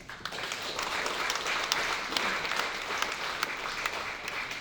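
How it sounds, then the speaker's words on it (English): Sustained applause from a large audience at a Pacific Small Island Developing States forum closing ceremony, dense and steady throughout, with no voices over it. "So please give a round of applause for our Heavenly Father."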